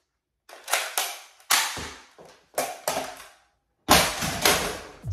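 A Nerf Longshot spring-powered blaster fires its front gun in seven loud, close cracks, each a sharp snap that fades quickly, spaced unevenly with short silences between them.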